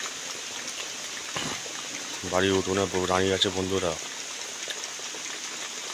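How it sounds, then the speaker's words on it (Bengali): Light drizzling rain falls over a home courtyard as a steady, soft hiss throughout, with someone speaking briefly in the middle. "ঝিরঝির করে বৃষ্টি পড়ছে"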